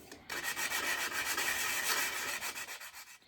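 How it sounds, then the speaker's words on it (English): Rapid back-and-forth rubbing of 120-grit sandpaper on a sanding block over wood, a steady rhythmic scratchy hiss lasting a few seconds, close up. "Here I'm just using some 120 grit with the sanding block."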